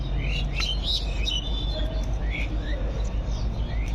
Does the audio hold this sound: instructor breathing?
no